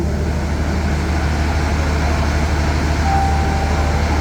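A heavy, steady low rumble of a Thai passenger train pulling into a station platform nearby, a constant loud drone with a faint high squeal partway through.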